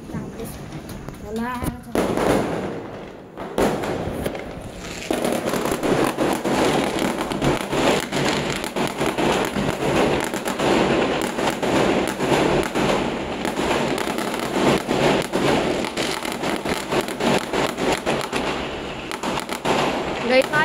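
Rapid Diwali firecracker bursts crackle continuously and loudly for most of the stretch, a dense unbroken barrage after a brief lull, with voices faintly underneath.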